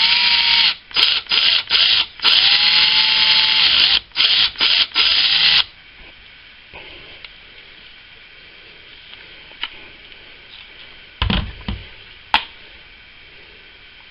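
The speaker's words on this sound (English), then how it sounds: "you want to make sure the drill is spinning the right way" An electric drill spins in loud, high-pitched bursts, stopping and starting several times, while sharpening electric shaver cutting blades, then quiet handling noises and a couple of brief buzzes follow.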